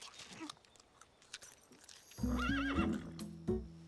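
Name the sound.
horse neighing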